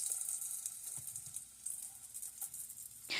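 Sausage sizzling in a casserole pan with little oil, a soft continuous crackling hiss broken by a few light clicks and taps of utensils, close and fairly quiet with no talk.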